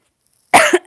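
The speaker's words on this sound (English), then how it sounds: "Sorry if I'm coughing." A single sharp cough, close and loud, bursts out and then trails off into a brief second rasp, heard during a live watercolour painting session of loose wet-in-wet roses.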